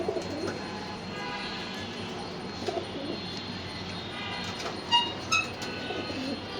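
Racer pigeons coo softly nearby, low warbling calls repeating against a steady rumbling background, with a couple of slightly louder bursts toward the end.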